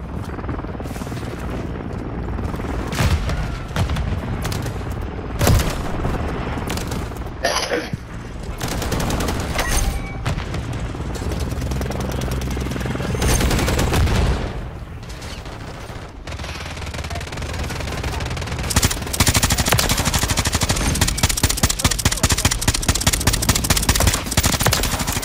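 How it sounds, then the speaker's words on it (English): Dense gunfire in a Call of Duty Modern Warfare 3 match: sustained automatic bursts, single shots and booming explosions rattle on loudly without pause, with rapid machine-gun fire intensifying toward the end. "there's so much gunfire here"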